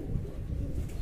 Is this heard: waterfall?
no